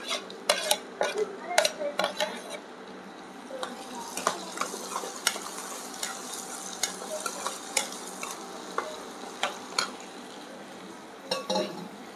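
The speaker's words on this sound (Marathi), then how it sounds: "तर आपला टोमॅटो थोडा शिजवून घेऊया आपण" Onion and tomato fry in a pan under a soft sizzle while a spoon stirs and scrapes, making sharp irregular clicks and clatters against the metal at close range.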